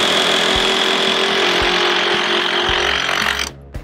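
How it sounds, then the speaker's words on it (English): Milwaukee Surge impact driver sinking a screw the size of a 3/8 lag into a 4x6 wooden beam, a loud continuous whirring drive with rapid hammering pulses that cuts off abruptly near the end. "Product number two, the Milwaukee Surge Impact Driver. Sweetest impact driver in the market."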